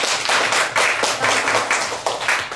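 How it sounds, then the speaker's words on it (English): A burst of applause: many hands clapping quickly and loudly, close by, with no talking. "we'll give those two teams a big round of applause"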